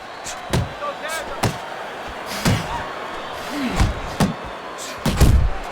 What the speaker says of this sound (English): A well-placed overhand right.